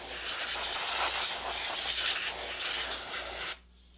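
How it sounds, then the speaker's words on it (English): An air chuck on a compressor blows dust and light debris off a RedCat RC car in a loud, continuous hiss lasting a few seconds, then cutting off abruptly into quiet. "using an air chuck or an old airbrush like this one, blow off dust and light debris."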